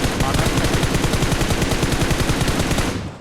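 Sustained automatic weapon fire in PUBG Mobile, a loud evenly paced burst of shots that rattles on for several seconds before fading out at the end.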